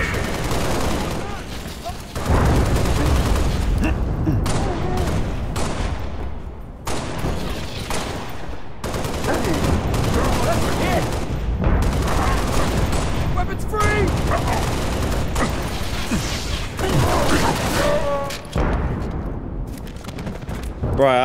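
Repeated bursts of gunfire in the video game Halo Reach, loud and sustained in clustered volleys across the whole stretch, with someone talking over the shooting.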